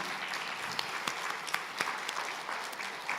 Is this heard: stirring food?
no